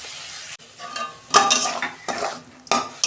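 Prawns tossed into a hot pan with chilli, sugar and oil, then stirred and sautéed, giving sharp clattering scrapes and bursts of sizzle in uneven spurts, close and fairly loud, with no talking.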